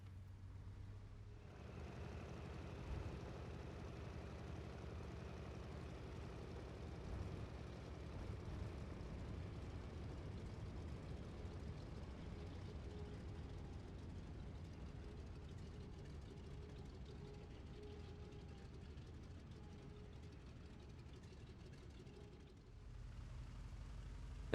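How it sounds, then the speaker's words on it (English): A P-47 fighter in the IL-2 flight combat game taxis off the runway, its radial engine a steady, low, droning rumble that holds for over twenty seconds before cutting off near the end. "I'll unlock the tail wheel and clear the runway."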